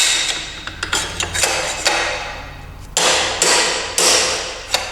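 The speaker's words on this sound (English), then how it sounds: "Typically use the biggest hammer I have for this purpose." A large hammer strikes a bearing race on motorcycle forks again and again, driving it down. The Suzuki GSXR forks are going onto a 1977 GS750. The metallic blows land close and loud in an uneven rhythm over a constant low hum.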